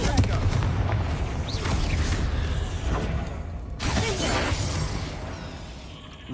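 Confringo blasting spell in a video game, two heavy booming explosions with crackling debris, each followed by a rumbling decay, loud and dense.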